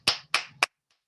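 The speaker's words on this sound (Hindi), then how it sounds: "बहुत ही सम्मान के साथ ताली चाहूंगा सर आप सभी साथियों से" Meeting participants give a short burst of applause, three sharp claps in quick succession and then silence.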